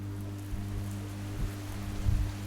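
Heavy monsoon rain falls at night in Mumbai, a steady, even hiss of rain on surfaces over a low, constant hum, with no voices.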